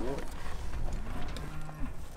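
Cattle on a ranch low and moo while being rounded up and worked, a few drawn-out calls rising over steady outdoor noise and what may be faint voices.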